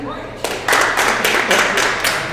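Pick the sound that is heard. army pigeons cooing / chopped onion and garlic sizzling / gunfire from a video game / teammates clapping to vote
teammates clapping to vote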